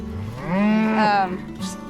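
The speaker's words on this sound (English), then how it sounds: "the cattle are all down here getting a drink of water" A single cow moos once, close and fairly loud, among cattle gathered at water on a farm, the call swelling then fading within about a second.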